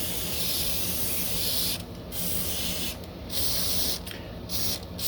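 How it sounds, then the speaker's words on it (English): Steady hissing spray from an aerosol cleaner can onto a gun slide runs almost continuously, broken by a few brief pauses between bursts. "I'm going to spray inside the firing pin hole and all the slide."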